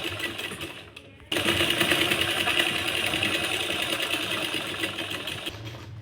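A sewing machine stitches palazzo pants fabric. After a brief lull it starts into a fast, steady, close whirring run that holds for several seconds before easing off.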